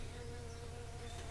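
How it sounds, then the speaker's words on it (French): A bee buzzes steadily and faintly around someone, a continuous low drone with no talk. "j'ai une abeille qui vient m'enquiquiner"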